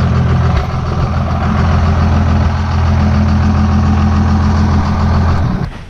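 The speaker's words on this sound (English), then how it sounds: "It's so much different at idle than it used to sound." A modified truck engine idles loudly and steadily at close range with a deep, even rumble, then cuts off abruptly near the end.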